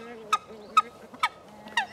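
Ducks and geese on a lawn, four sharp honking calls evenly spaced over two seconds, fairly close and clear above a quiet background.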